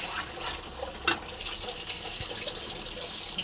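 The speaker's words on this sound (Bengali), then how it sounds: "এবার আমি এর মধ্যে জল গরম করে রেখেছি জলটা দিয়ে দেবো" Hot water poured into a cooking pot of meat and potatoes, a steady moderate splash and trickle throughout with one sharp clink of a vessel early on.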